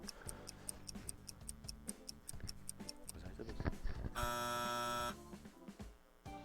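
A quiz show buzzer sounds after a trivia question, a loud sustained electronic buzz lasting about a second, preceded by steady clock ticking and a brief bit of talk.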